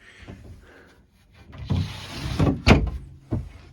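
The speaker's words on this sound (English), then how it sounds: "another sliding door for a large hanging locker" A wooden sliding door on a large hanging locker aboard a 1968 Grand Banks 42 wooden boat, rolling and rubbing along its track in a few short strokes with a firmer knock near the end; close and fairly quiet.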